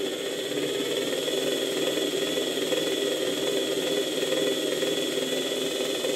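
A steady, droning old Electrolux vacuum cleaner motor with heavy brush sparking whines and hums continuously at close range, with a harsh, noisy buzz and no change in pitch.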